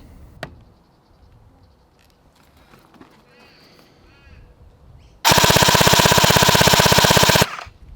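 An LDT MP7 gel blaster rated at 300 fps fires on full auto at roughly 16 rounds per second, a loud, dense burst lasting about two seconds after a quiet stretch with faint background sounds.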